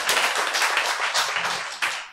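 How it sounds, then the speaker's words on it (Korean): A Korean church audience claps together during a sermon on forgiveness, a dense, steady burst of many hands filling the short span with near, even patter. "이때는 박수 한번 쳐야 돼, 이제"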